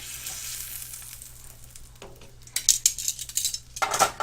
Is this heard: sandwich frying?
yes